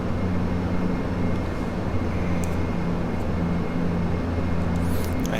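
Majestic Q400 turboprop engines in flight simulation, winding down to cruise RPM at altitude: a steady droning hum with strong low tonal bands, loud and constant, with a faint brief click near the end.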